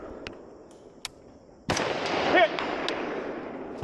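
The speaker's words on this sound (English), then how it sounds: "So here we're shooting some rifle targets." A rifle shot fired at 200-yard targets with 55 grain ammunition during a multigun match rings out once, loud and close, then echoes and decays into a sustained outdoor rumble.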